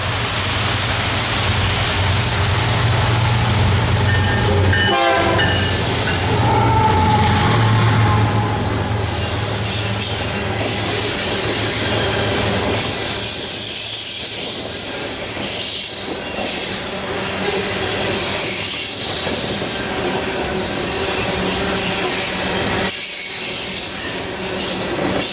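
Train 732, a coal train, rolls past close by near a bridge, a loud continuous rumble of railcars with wheel squeal and rhythmic clickety-clack of wheels over rail joints, no voices.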